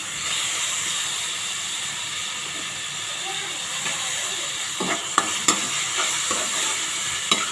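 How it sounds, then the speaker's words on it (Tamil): Onion and masala sautéing in a pan for channa biryani, a soft continuous sizzle and hiss with a few sharper scrapes and taps of a spoon toward the end, no voices. "பச்சை வாசனை போகிற வரைக்கும் வதக்கிக்கலாம்"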